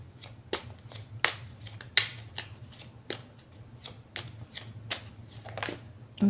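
Oracle cards being shuffled and drawn, a series of sharp, crisp riffling snaps at an irregular rhythm, close and fairly loud over a low steady hum, with no talking.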